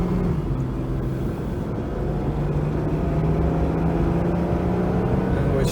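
A Jaguar XJS six-cylinder car accelerating up a freeway on-ramp, heard from inside as a steady engine drone climbing in pitch under road and wind noise, loud and continuous.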